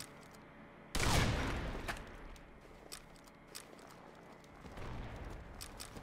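Gunfire in the online shooter Combat Arms: a sharp loud shot bursts in, followed by scattered quieter pops and a later rattle of rapid fire, with no talking over it.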